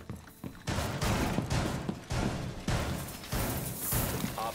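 Video game gunfire comes in a series of heavy blasts spaced about every half second to a second, loud and booming, with impacts and thuds between them.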